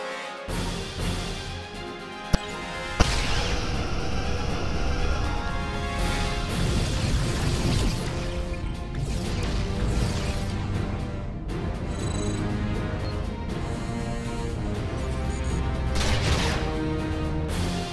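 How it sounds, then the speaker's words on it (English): Photon torpedoes launch and strike targets in a Star Trek space combat video game during a fight against Romulan ships, with repeated booming impacts and crashes layered over a dense, loud game soundtrack. "Right click or press Alt, you see red reticles for fire photon torpedoes."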